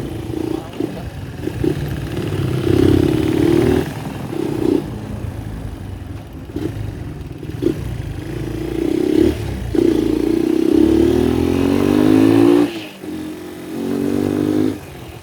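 A Honda XL 200 motorcycle engine revs repeatedly and close by, rising in pitch with each throttle blip and dropping back to a rough, clattering idle between.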